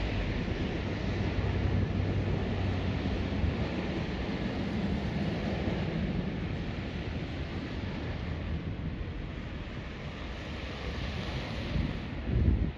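Water on the Luga River in the town of Kingisepp, Leningrad Region, gives off a continuous broadband rush mixed with gusty wind buffeting the microphone, steady and fairly loud throughout, with no talking.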